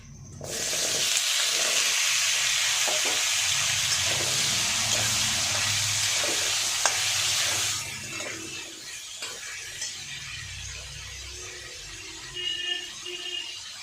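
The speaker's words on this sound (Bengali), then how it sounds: "তেল দিয়ে আমি গাজর আর আলুটা ভেজে নেব" Carrot and potato pieces fry in hot oil with a loud, steady hiss that fades after about eight seconds into softer crackles and faint stirring.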